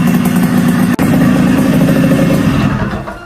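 A Yamaha RX King two-stroke motorcycle engine runs close and loud with a raspy, crackling idle that briefly cuts out, then fades slightly at the end.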